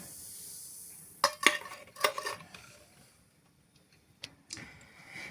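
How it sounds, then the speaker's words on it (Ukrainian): A spoon scrapes and clinks against a bowl while stirring apple fritter batter with added vinegar-quenched soda, a few sharp clatters in quick bursts separated by near-silence. "Тепер це все потрібно ще раз добре перемішати"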